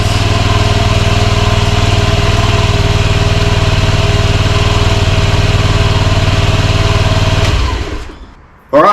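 A Honda Scoopy Metropolitan scooter engine idles at a steady, close, loud rhythm for several seconds, then dies away to near silence, followed by a short burst of sound at the very end.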